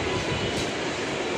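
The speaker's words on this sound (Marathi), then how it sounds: "ते बघा, आता ट्रेन आलेली आहे" Train arriving at a station, a brief, fairly faint steady rumble of moving rail cars.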